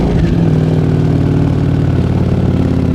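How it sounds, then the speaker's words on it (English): A 2025 Ducati Panigale V4 with a low-mount exhaust cold-starting and settling into a loud, steady, throbbing idle, close to the microphone and alone for the whole stretch. "let's get this cold start of the 2025 Ducati Panigale, low mount exhaust"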